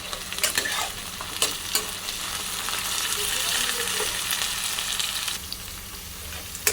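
Green peas and mixed vegetables sizzling in a pan for fried rice while a spatula stirs, steady frying hiss with repeated scraping clatters and knocks, close and moderately loud.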